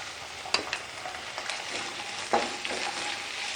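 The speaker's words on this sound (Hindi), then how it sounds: "इसको भी थोड़ा सा इसी तरह ना 20-25 सेकंड चलाते हैं।" Green onions and green chillies stirred in a pan for a Chinese chicken almond dish, a quiet continuous sizzle broken by a few sharp scraping or tapping strokes nearby.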